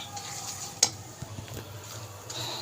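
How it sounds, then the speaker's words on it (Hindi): Semolina and gram flour roast in a pan for sweet halwa, with a spoon scraping and stirring through a low continuous sizzle and one sharp clink of metal, close and moderately quiet. "इसको हमने अच्छा सा भूनना है।"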